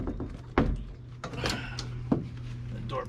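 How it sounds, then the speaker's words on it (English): Sharp plastic pops and snaps as a 1982 Corvette C3 door panel is pried loose, with a rattle and a scraping clunk close by and a bit of talk underneath. "The door panel pulls off."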